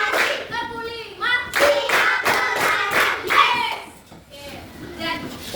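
Children clap in counted sets while voices chant over the claps, a rhythmic group activity heard in a room with the clapping mixed closely into the speech.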